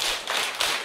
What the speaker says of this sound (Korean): 박수 3번 칠까요?